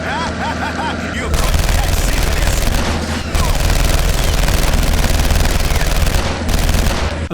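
Loud, sustained automatic gunfire from weaponized vehicles in the shooter game Contract J.A.C.K., dense rattling bursts that briefly pause and resume, with a voice heard over the shooting.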